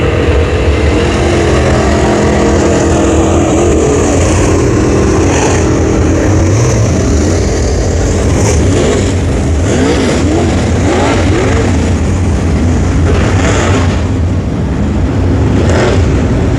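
Pro Late Model race cars restart at Brownstown Speedway in Indiana, and a loud, continuous roar of several engines revving and accelerating fills the whole stretch without pause, heard from close by.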